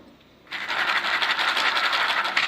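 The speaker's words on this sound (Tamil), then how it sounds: "சோயா எப்படி சவுண்டு கேட்குது பார்த்தீங்களா? எவ்வளோ க்ரன்ச்சியாக." Crunchy fried soya chunks rattle and crackle loudly, starting abruptly after a short quiet moment and continuing as a dense, steady crunching close by.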